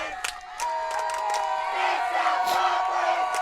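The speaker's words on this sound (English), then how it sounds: "all that cheering in the background" Spectators at a collegiate archery barebow mixed team gold final, including Texas A&M University supporters, cheer and shout in a sustained, fairly loud crowd roar with scattered whoops.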